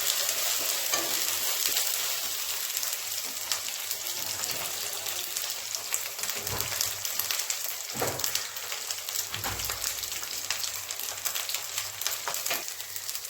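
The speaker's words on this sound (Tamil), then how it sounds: "இஞ்சி பூண்டு பேஸ்ட் நல்லா வதங்கட்டும்." Ginger garlic paste frying in a pan gives a steady, close sizzle with occasional stirring scrapes, continuing throughout without talk.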